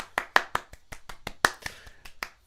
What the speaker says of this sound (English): Everybody give Cass a huge round of applause.